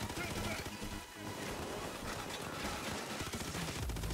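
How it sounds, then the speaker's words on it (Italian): Rapid sniper rifle gunfire in the video game Payday 2, dense overlapping shots and loud clatter filling the clip, with a voice talking over the action. "Io sparo con il cecchino, passa attraverso tutto."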